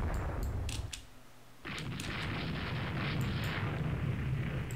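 A torpedo explosion in the naval strategy game Rule the Waves 2: a deep rumbling burst that cuts in abruptly after a brief lull, then a sustained roaring blast with crackling debris, loud and close.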